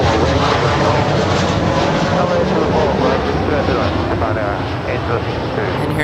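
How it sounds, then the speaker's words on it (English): An Alaska Airlines Boeing 737-800 arriving at LAX from Washington National, a loud continuous engine roar with broad rumble that holds steady throughout, heard close by. "here's Alaska Airlines flight number 5 coming in from Washington National, 737-800."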